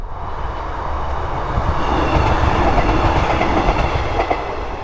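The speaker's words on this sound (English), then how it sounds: "That click-clack sound you can hear is literally the wheels hitting the joints" A train rolls steadily past close by, its wheels clacking over rail joints in a repeated rhythm above a loud, continuous rumble.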